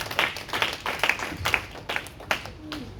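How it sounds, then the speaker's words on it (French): A church congregation clapping in a steady rhythm to acclaim Jesus, a series of roughly even, fairly close claps with a faint murmur of voices underneath. "Acclame très fort Jésus."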